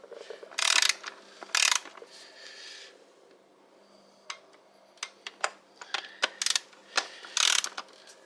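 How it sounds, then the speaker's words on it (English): Close ratcheting clicks from a torque wrench tightening spark plugs to 13 foot-pounds, coming in short bursts of clicking followed by scattered single clicks and a few more quick runs. "we're actually going to take and put the torque wrench on them"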